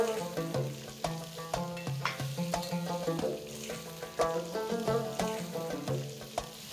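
Chopped tomatoes, slit green chilies and mutton cook in a pan for Peshawari namkeen gosht, with a steady sizzle and a regular rhythm of stirring scrapes, about one every half second, over a sustained tonal hum.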